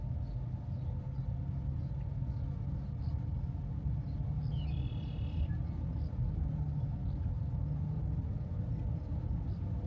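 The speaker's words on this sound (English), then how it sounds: "Just exploring by car right now." A car drives along a rural back road near Puerto de Luna, New Mexico, its engine and tyre rumble steady and low throughout, with a faint brief whine partway through and no talk.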